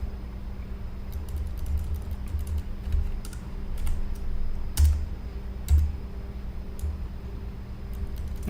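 Irregular clicking of keys on a computer keyboard, some taps louder than others, close by over a low background hum.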